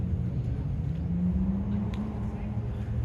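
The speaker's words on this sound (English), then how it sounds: "You can hear all the sounds of the Porsches and the nice cars and the Tundras and all the Dodges" Cars driving by on a Yokohama street at night, a continuous low engine rumble with a rising hum as one vehicle passes close, steady and moderately loud.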